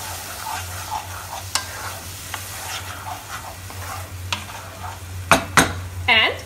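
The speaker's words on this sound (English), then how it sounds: "Mix it nicely." Aloo masala, potatoes coated in kitchen king masala and salt, is stirred in a pan with a spoon, giving steady soft scraping and a low sizzle, with sharper clinks and knocks of the utensil against the pan near the end.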